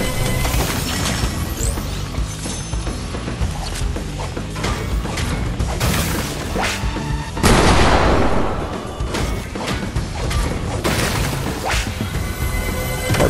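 A drum gun fires in Fortnite amid a dense, loud battle, with continuous rapid gunfire, crashes and a heavy burst around the middle, layered with game effects and no talking.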